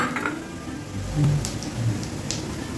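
Whole cumin seeds sizzling in hot mustard oil, a steady close crackling fry with small pops, brief and continuous, no talk.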